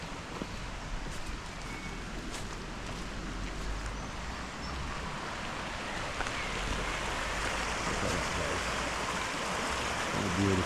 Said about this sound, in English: Look at those waterfall along the water down there.